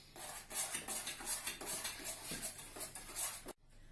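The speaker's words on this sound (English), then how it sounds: "We mix the chocolate with a previous prepare." A spoon scrapes and clinks against a bowl while chocolate is stirred with another prepared mixture, a steady run of close, soft rhythmic strokes that stops abruptly near the end.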